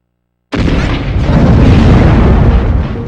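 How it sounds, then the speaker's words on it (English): Loud missile explosion in the Steambot Chronicles video game, a sudden blast after brief silence that becomes a sustained, dense roar of rumbling debris and fire filling the rest of the moment. "But yeah, dodge those missiles."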